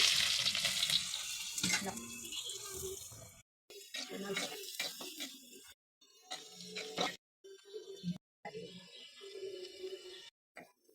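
Cumin, green chili and onion frying in a hot pan, a loud sizzle at first that breaks into short bursts of frying and stirring with brief silent gaps, under a voice.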